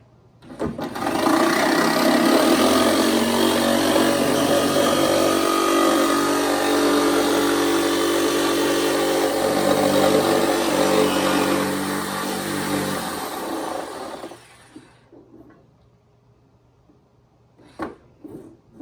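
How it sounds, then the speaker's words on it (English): A loud, continuous grinding saw runs for over ten seconds, then cuts off, leaving a few faint knocks and clatters, during the building of a mealworm setup. "Would you like to do the sawing"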